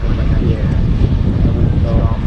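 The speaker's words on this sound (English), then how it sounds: "the A380 is about to get onto the active runway" An Emirates Airbus A380 taxis onto the active runway at Manchester Airport, producing a loud, steady low jet-engine rumble buffeted by wind noise on the microphone, with no clear speech.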